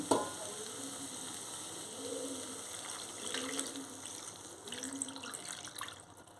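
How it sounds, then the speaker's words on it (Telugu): Tamarind juice poured over cooked okra pieces in a pan, a continuous watery splashing and gentle sizzle with a few louder swells of pouring, close and steady with no voices. "బెండకాయ ముక్కలు మగ్గిపోయి ఇప్పుడు ఇందులోనే పులుసు వేసేసుకుంటున్నాను"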